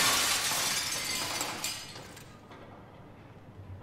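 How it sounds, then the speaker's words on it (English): Glass shattering in the horror video game SOMA: a bright crash of breaking glass that sprays and decays over about two seconds, followed by quieter settling debris and a low hum. "I just put my face right through that glass"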